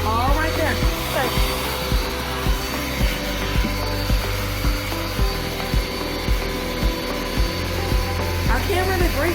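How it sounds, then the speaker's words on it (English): Vacuum cleaner running indoors while cleaning a living room floor, including under a table: a steady motor whine with repeated bumps and knocks from the nozzle moving around furniture, close and loud throughout. "Vacuum under the table."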